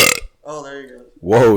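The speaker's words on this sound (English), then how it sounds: "That was a little burp." A short burp stands alone between bursts of talk, with a person speaking just before and right after it.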